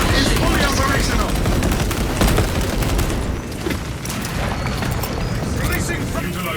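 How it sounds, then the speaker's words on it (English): Heavy booming blasts and rumbling crossfire from a melter charge demolition in a Warhammer 40K video game battle, loud and continuous throughout, with a voice speaking over the din. "Melter charge secure. Melter demolition."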